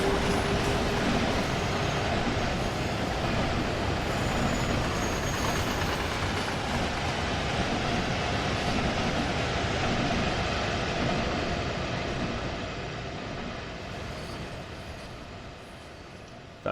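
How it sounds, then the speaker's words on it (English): In Train Sim World 3, on the Würzburg to Aschaffenburg route, a train rolls along the rails with a dense, continuous roar of wheels and rail noise that holds steady, then gradually eases and fades near the end. "Getting nice the old click clack."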